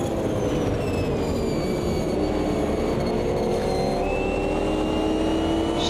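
A four-wheel-drive DTM race car in the Automobilista 2 racing game drones loud and steady throughout, its engine note climbing in pitch as it accelerates, with no talking.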